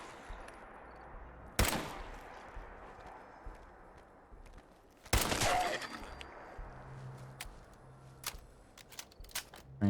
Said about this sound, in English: I just need to be able to fire quickly into the ground.